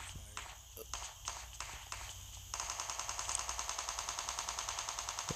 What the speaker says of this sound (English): So we finally got some gunfire around us